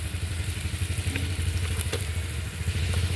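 Turmeric and chili powder fry in a pan, a steady hissing sizzle with faint crackles, fairly quiet and continuous, with no talking.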